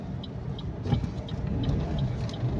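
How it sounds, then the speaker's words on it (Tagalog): A motorized tricycle passes close by on a street, its steady mid-pitched engine rumble holding for a few seconds with faint ticking on top. "Na, tricycle."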